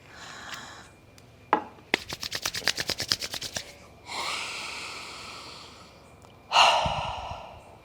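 A person doing yoga takes slow, audible breaths through the nose after applying a citrusy oil, with sniffs and long airy inhales and exhales, close and intimate, with a quick series of rubbing taps in between.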